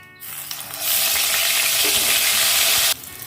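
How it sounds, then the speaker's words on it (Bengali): Eggplant pieces fry in hot oil, a quiet start swelling into a loud, dense sizzle that holds for about two seconds before dropping away abruptly, with no speech. "এবার এই বেগুনগুলোকে তুলে নিয়ে বাকি বেগুনগুলোকেও ভেজে নেব"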